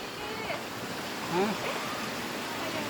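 Continuous rushing water of Chanta Then waterfall in Chonburi, a steady, moderately loud wash of broadband noise, with a voice briefly audible over it.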